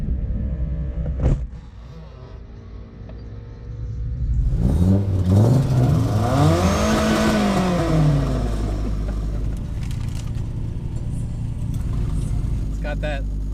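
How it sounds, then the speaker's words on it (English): A winter beater car engine idles with an uneven, lopey rhythm, then revs up loudly around the middle before settling back to a steady rumble, with people talking over it. "It's got that lopey idle."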